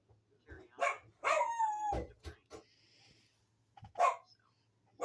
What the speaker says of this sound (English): you can hear Nova barking in the background